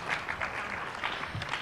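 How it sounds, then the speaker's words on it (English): An audience at a panel on decent jobs in the care economy gives a short, soft round of applause for the chairs and panelists. The dense clapping lasts under two seconds and sounds somewhat distant. "One more round of applause for our chairs and our panelists."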